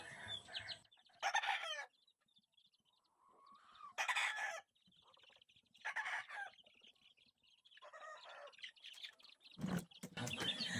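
Hens cluck and roosters crow repeatedly at close range, several birds overlapping in bursts with brief quieter gaps between.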